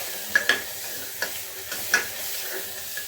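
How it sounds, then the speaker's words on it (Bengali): Tomato cooks in a hot pan with sugar and cumin powder while a spoon scrapes and taps against the metal. A soft, steady sizzle runs underneath. "এবার এগুলো সব দিয়ে ভালো করে কষাতে হবে"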